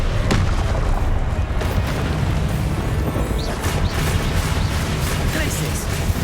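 Repeated booming blasts of the Confringo explosion spell in Hogwarts Legacy, dense and loud throughout with layered impacts and rumble, while a voice shouts spell names over the combat.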